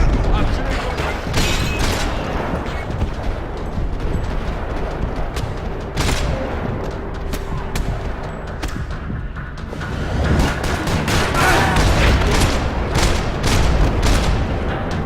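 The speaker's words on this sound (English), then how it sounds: "Another parking lot rattling with gunfire." Gunfire rattling across a parking lot in the video game Max Payne, a dense continuous barrage of shots and booms, loud throughout with repeated sharp bursts over a busy background.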